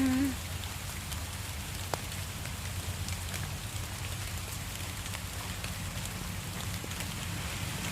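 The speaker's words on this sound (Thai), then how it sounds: "ฟังเสียงฝนนะจ๊ะ ทุกคนจ๋า" Steady rain patters and hisses on surfaces, a continuous even wash of drops with a low rumble underneath and no talking.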